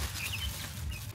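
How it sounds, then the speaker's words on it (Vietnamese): A rooster clucks softly in short, quick calls over a steady low background hum, fairly close but quiet, lasting about a second. "Gà này gà trống nè."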